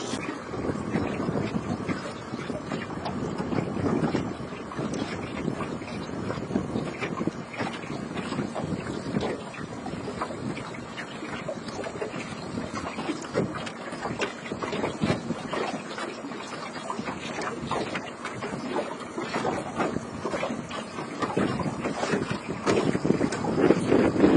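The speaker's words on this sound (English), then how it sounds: "the wind is still very persistent" Persistent wind buffets a fishing boat on Ceizur Lake, a steady rough rushing noise with gusty microphone rumble that stays loud and unbroken throughout.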